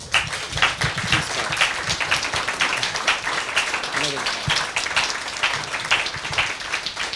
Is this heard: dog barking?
no